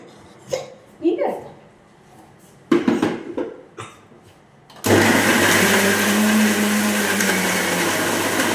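A small mixer grinder blends tender coconut with sugar into juice, roaring in with a loud, steady whir and holding it to the end, after some brief talk and clatter at the start.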